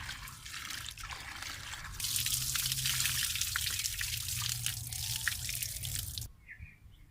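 Cut potato fingers for chips are rinsed in water, giving a close, continuous splashing and trickling as they are swished about. The washing stops abruptly near the end.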